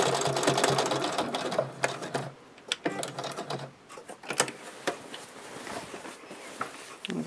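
Sewing machine stitching quilt binding, bursts of rapid mechanical whirring at close range broken by short pauses as the fabric is turned, no talk.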